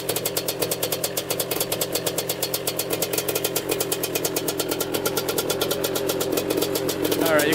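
A 250cc two-stroke quad engine runs after a cold start with the choke on, giving a close, loud, rapid buzzing idle that rises slightly in revs near the end, with a voice speaking over it.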